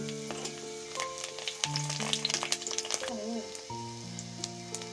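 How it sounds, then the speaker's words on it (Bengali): Strips of eggplant frying in a pan for a Bengali pumpkin-stem chachchari, a soft steady sizzle under background music with a few clinks and stirs. "প্রথমে বেগুনটা ভেজে নিচ্ছি।"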